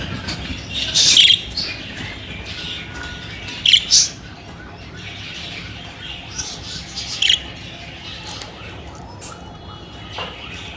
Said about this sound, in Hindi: तोते शोर कर रहे थे तो वीडियो में आवाज़ आ रही थी